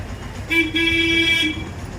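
A single sustained auto-rickshaw horn honks for about a second over light road noise as the auto-rickshaw arrives, fairly close.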